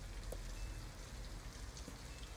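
Rain falls steadily in the video game Detroit: Become Human, a soft, even wash of drops with no other sounds standing out.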